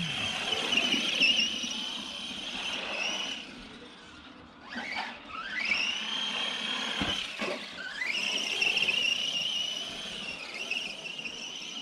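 An Arrma Granite Mega brushless RC monster truck, 2S with a 2000kv motor and 14T pinion, driven fast outdoors: a high motor whine that rises and falls with each speed run, dipping briefly before winding up again, no talking.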